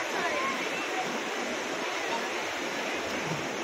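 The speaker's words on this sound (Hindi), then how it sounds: "पानी देखो यहाँ पे बहता हुआ पानी" Flowing stream water at a bathing spot near Chamunda, a steady, close rushing wash that continues without pause, with faint voices in the background.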